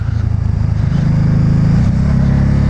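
A Can-Am Spyder Roadster RT's 1330cc three-cylinder engine drones loud and close as the rider downshifts its six-speed gearbox, the engine note stepping up in pitch partway through over a steady rumble.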